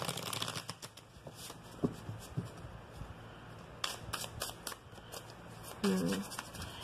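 Tarot cards are shuffled by hand in a steady run of crisp riffling and flicking, close and fairly quiet, with soft speech at times.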